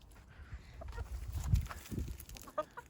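Foxy Chick meat-and-egg cross and Lohmann Brown laying hens cluck softly in a farmyard, with scattered low clucks and a few brief calls mixed with faint shuffling.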